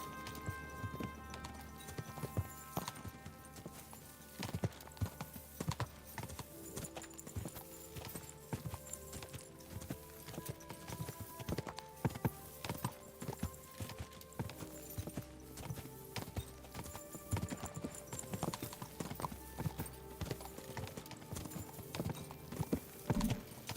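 Steady clip-clop of horse hooves at a riding pace in the video game Kingdom Come: Deliverance 2, continuous and fairly close, with occasional faint whinnies over a light musical background.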